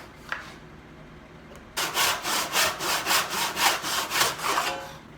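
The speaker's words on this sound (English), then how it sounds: "I'm going to cut maybe ½ inch or more off" A handsaw cuts off part of a wooden hand plane wedge for a coffin smoother, giving about ten rhythmic rasping back-and-forth strokes close up after a brief quiet tap, with no voices.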